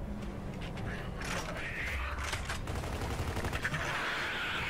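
Muffled sustained gunfire from Gears of War 2 co-op play on Xbox 360, rattling bursts under a steady game ambience, faint and somewhat distant with mechanical clatter.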